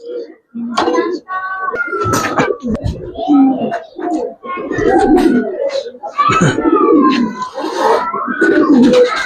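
Giribaz and fancy pigeons coo in soft, throaty bursts, close by at a pigeon sale, with people talking intermittently over and between the calls.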